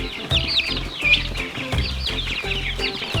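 Red Star chickens from a hatchery cluck and squawk in a flock, with repeated close calls and scratchy bursts over a low rumble.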